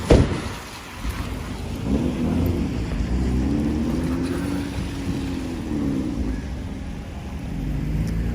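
Rain falls on a Manhattan street in New York City in June, a steady hiss layered with the low rumble of passing traffic after a short knock at the start.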